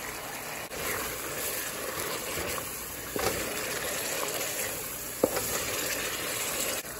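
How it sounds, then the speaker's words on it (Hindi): Gosht being roasted and fried in a pan with water, salt and kasuri methi for saag gosht, a steady close sizzle with soft stirring scrapes and no talking. "दो मिनट हम इसकी अच्छे से भुनाई करेंगे।"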